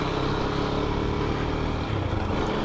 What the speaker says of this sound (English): I feel the bike is a little smooth now